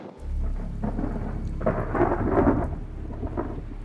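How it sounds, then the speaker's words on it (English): Thunderstorm with deep rolling thunder and heavy, torrential rain hissing steadily, the rumble swelling and easing throughout, loud and close with no voices. "the storm came blowing in. The sky turned black, the wind came up, and it just torrential rain"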